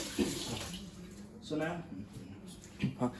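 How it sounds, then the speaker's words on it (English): Water runs from a kitchen tap while hands are rinsed, a soft hiss and splash that swells in short bursts, close by, with a person talking over it. "I'm gonna wash my hands one more time. Just gonna give them a rinse"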